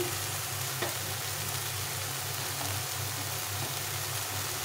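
Spices with salt and turmeric fry in a pan under constant stirring, an even, close, low sizzle with soft scraping throughout.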